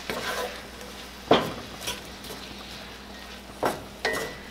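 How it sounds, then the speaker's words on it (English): Onions cooking in a pan, with a soft background sizzle broken by a few sharp scrapes and clinks of a utensil stirring against the pan at irregular intervals. "we're going to go ahead and add in all of our onion. We're going to let this cook until the onion is tender"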